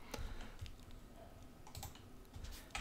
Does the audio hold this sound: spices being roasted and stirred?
no